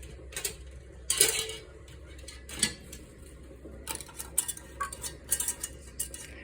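Metal lids and rings are screwed onto canning jars of tomato juice, giving close, intermittent clinks and gritty scraping twists in short irregular bursts.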